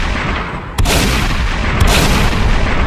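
Shotgun blasts in a zombie video game, two sharp booming shots about a second apart over a dense, noisy game soundscape, with no talking.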